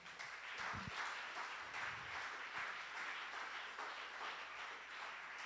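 Distant, faint applause from a church congregation, a continuous patter of many hands clapping that holds steady throughout.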